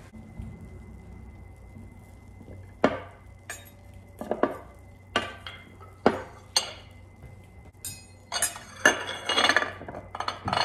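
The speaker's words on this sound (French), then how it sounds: "quand ça sort du four, je vais en couper un morceau" A knife slices through a freshly baked keto shrimp turnover, giving a series of close, crisp clinks and scraping cuts against a plate, spaced irregularly and growing busier toward the end, with no talking.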